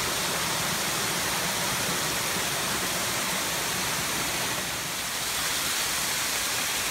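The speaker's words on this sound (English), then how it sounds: "here we are above the waterfall" Steady, dense roar of a waterfall in Lehigh Gorge, heard close and loud as continuous broadband rushing with no break and no voices.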